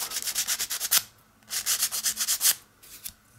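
Sandpaper rubs a small part of a DeAgostini Millennium Falcon scale model kit in quick back-and-forth strokes, grouped in three close, dry, scratchy bursts with short pauses between them and no voices.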